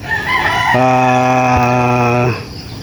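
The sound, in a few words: chickens and chicks on a farm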